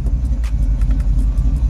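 An Oldsmobile Cutlass V8 idles close by with a steady, deep, even rumble; the car runs without a thermostat while its cooling fans work.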